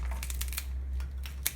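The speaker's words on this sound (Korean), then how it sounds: "자르실 때는 거꾸로 드시고 가위로 자 이렇게 해서 먼저 그냥 직각으로 한 번에 자릅니다" Scissors snip through the stems of a tied flower bouquet, cutting straight across in a few quick, crisp clipping and crunching sounds up close, with no talking.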